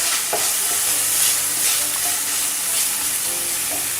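Bell peppers sizzling in a pan for a pie filling while being stirred, heard as a continuous close hiss and crackle broken by soft scraping strokes of a utensil, with no talking.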